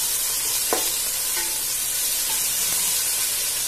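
Veg pulao with fresh mint and coriander stirs in a pan, a steady close sizzle and hiss with a few light scraping clinks from the spoon, no voices.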